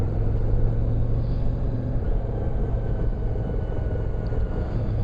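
A CF Moto MT 450 motorcycle being ridden, giving a steady, smooth engine rumble with wind noise throughout, with no voices.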